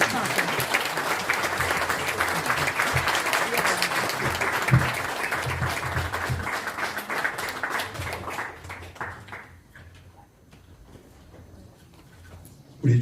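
Church congregation at a retirement and installation service claps loudly and steadily for about eight seconds, then the applause fades out into near silence.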